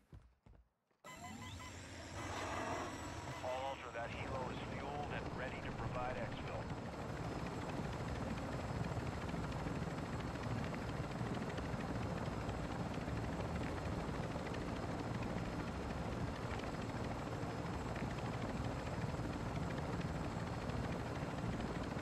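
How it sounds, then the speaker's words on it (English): An exfil helicopter in the Call of Duty DMZ video game thunders steadily and loudly for over twenty seconds as a dense, continuous rotor roar with no talk over it. "My own personal exfil chopper."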